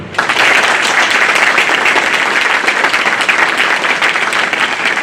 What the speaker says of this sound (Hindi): दो उनके लिए ताली दो।